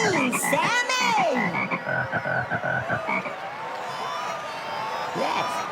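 A voice imitates a crowd of frogs, with throaty croaks and warbling calls layered in an uneven rhythm, close and loud. A brief whoop is heard near the start.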